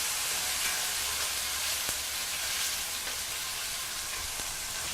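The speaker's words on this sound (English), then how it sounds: "So we've seared off the back. We're going to sear up the sides." A piece of meat sears in hot oil over a high flame, a loud, dense, steady sizzle with a few faint clicks, close up and continuous, with no speech.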